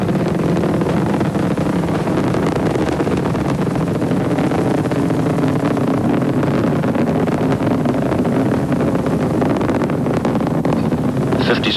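Space Shuttle Discovery's three liquid-fuel main engines roar during the STS-70 launch, throttling back in three steps to 67% of rated performance, a loud, dense, unbroken rumble that holds steady throughout with no voices.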